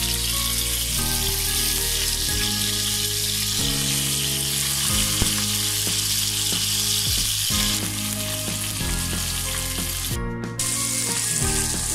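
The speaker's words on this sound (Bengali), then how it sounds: "সাসলেকগুলো আমি এক পাশ এক পাশ করে ভেজে নেব।" Chicken shashlik skewers frying in hot oil in a pan, a steady loud sizzle running throughout with occasional crackles and soft clinks of utensils against the pan.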